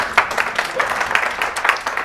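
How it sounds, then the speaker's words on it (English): An audience applauds in a lecture hall, with steady, dense clapping from many hands close by. "They gave me a thundering applause, like you did."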